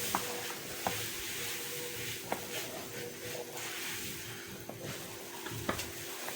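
Homemade honey with orange blossom water is stirred in a pot, giving a soft, continuous swishing with faint sizzle and occasional light clicks of the spoon against the sides, quiet and close.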